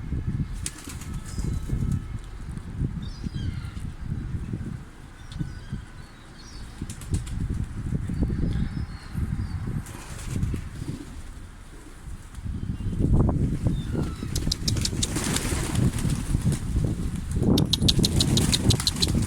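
Pigeons arrive with flapping wings, a loud, close, fluttering rush that recurs in bursts over a steady outdoor background, growing stronger toward the end.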